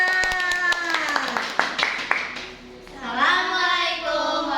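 Children in a classroom clap their hands together in a quick burst of claps, followed by young voices chattering and calling out nearby.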